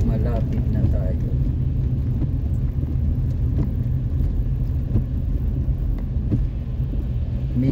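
Steady road traffic rumble near Baguio City Hall, a continuous low engine drone from passing cars with faint hiss, persistent at moderate level; a person talks over it, the sound continuing beneath the voice.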